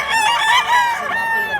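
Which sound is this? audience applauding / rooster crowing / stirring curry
rooster crowing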